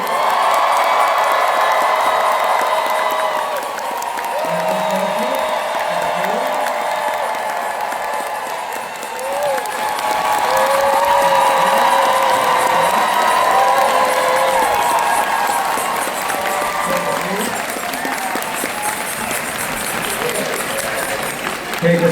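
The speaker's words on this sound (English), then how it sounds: "A big round of applause for the cast of Baldur's Gate 3." A convention audience at Dragon Con 2025 gives the Baldur's Gate 3 cast a big round of applause, a dense sustained clapping with cheers and whoops that swells midway and carries on over an announcer's voice.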